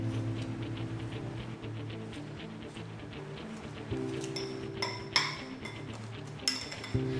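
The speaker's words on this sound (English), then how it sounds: "Now I'm just going to smash the softened butter with this fork" A fork mashes softened butter in a bowl, giving quiet scraping and soft tapping, with a few sharper clinks of metal against the bowl near the end.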